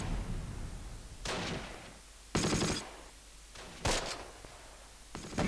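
Bursts of machine gun fire from World War II infantry combat in the Close Combat strategy game, with four or five separate short volleys spaced a second or so apart, moderately loud over low background rumble.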